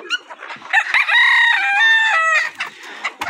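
A rooster crows loudly and close by on a golden misri hen farm, one long drawn-out call with scattered clucks from other chickens before and after.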